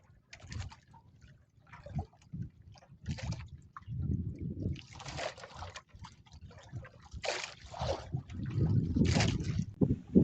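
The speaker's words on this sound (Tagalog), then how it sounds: "Aabutin na kami ng lakas ng amihan." Strong northeast monsoon wind buffets a small fishing boat at sea, gusty rumbling bursts of wind noise and splashing water coming and going irregularly, moderately loud and without talk.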